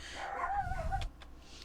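Dogs bark in the distance, several yelping calls in the first second that rise and fall in pitch, followed by a couple of short faint sounds over a low background rumble.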